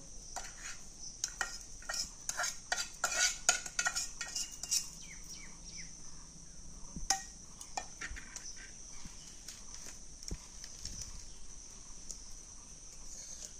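Wet mustard paste being stirred in a heated kadai, with irregular metallic scrapes and clinks from the spatula, busier at first and then sparser over a quiet background.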